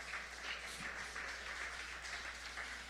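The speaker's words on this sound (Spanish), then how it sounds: "Denle un aplauso al Rey" A church congregation applauds steadily during a sermon, a sustained, fairly distant wash of clapping over a low hum, with no voice speaking.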